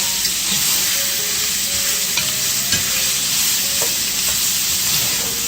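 Garden vegetables sautéing in a pan give a steady, close sizzle with scattered clicks and scrapes of stirring throughout.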